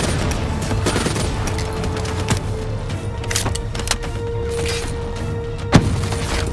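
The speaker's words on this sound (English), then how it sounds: "Shooting at me from behind." Enemy gunfire in Call of Duty: Black Ops 3, a steady crackle of shots with a few sharper cracks and one loud burst near the end over constant battle noise.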